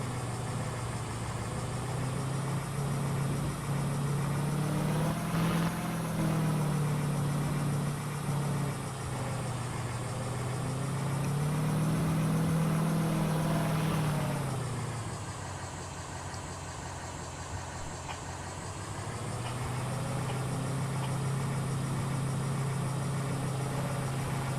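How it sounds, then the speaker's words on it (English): A large, very fast truck in Farming Simulator 2013 drives with a steady low engine drone that rises and falls in pitch as it revs and eases off, loud and continuous with no talking. "This is a very, very fast truck, and it can be very challenging to steer."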